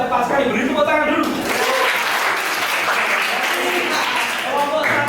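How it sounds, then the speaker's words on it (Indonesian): Students in a classroom clap together after a correct answer in a group lesson, a steady dense round of applause that holds for several seconds, with voices audible at the start and end. "Beri tepuk tangan dulu."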